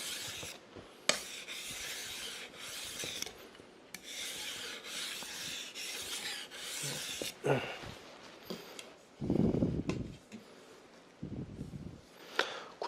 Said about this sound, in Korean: 이번에 이쪽을 갈았으니까 반대쪽도 살짝 다듬어 줍니다.